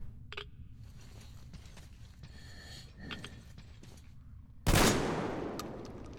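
A single loud gunshot rings out in Metro Exodus, a sharp broadband crack followed by a decaying tail, after several seconds of quieter game ambience and faint mechanical clicks.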